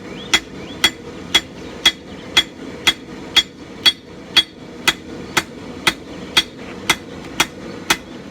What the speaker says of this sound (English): as you hammer in bevels, the knife is naturally going to want to curve that way